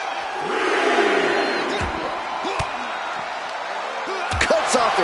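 Arena crowd in the WWE 2K25 wrestling game roars with a steady swelling cheer, punctuated by sharp impact slams and whoops, loud and continuous throughout.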